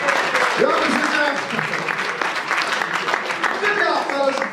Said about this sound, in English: Give our dreams a big round of applause.